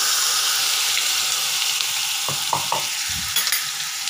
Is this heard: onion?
yes